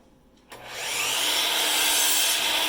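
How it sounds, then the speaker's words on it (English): A power saw bites into a hand-milled cedar board to cut off a large knot, starting abruptly and settling into a loud, continuous rasping cut. "So I'm just cutting that off."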